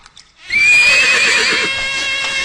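Horse gives one loud, close whinny that starts after a brief quiet moment and trails off with a fading nasal rumble.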